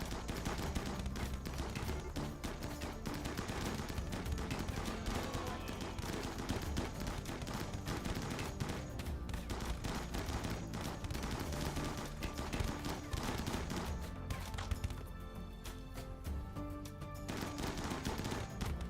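Gunfire in the video game Iceberg runs as a dense, continuous rattle of rapid shots for the whole stretch, fairly steady in loudness.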